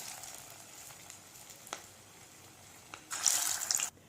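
Vegetable Manchurian balls fry in hot oil in a kadhai over a medium flame, giving a faint, steady sizzle that swells into a brighter, louder hiss for a moment near the end. No voices are heard.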